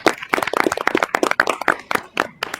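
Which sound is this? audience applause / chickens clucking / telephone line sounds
audience applause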